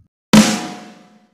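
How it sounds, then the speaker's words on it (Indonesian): A single snare drum strike rings out close and loud after a moment of silence, a bright crack with a buzzy tail fading over about a second. "Kemudian ketuk snare."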